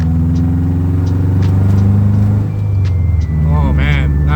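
A BMW 2002 fitted with new headers rumbles steadily while driving, a deep, close engine drone that persists throughout, with a voice speaking over part of it.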